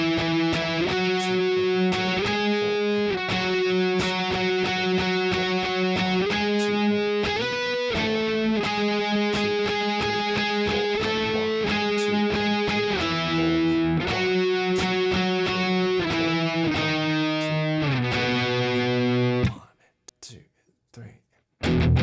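Distorted electric guitar plays the chorus power chords of a song, with loud, steady strummed chords changing in rhythm for about nineteen seconds, then cutting off into a few muted stabs.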